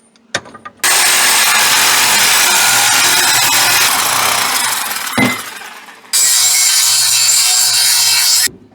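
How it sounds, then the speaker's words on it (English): A Sawzall reciprocating saw cuts loudly nearby on a rusty project car, running in a long continuous burst, pausing briefly, then buzzing again in a second steady run. "I'm going to get the Sawzall. We'll chop that little fella off here in a minute."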